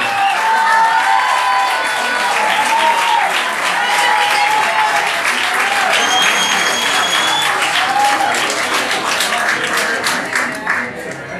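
Loud, sustained audience applause and cheering at a club concert, a dense crowd clapping steadily throughout, with a few whistles standing out before it eases slightly at the end.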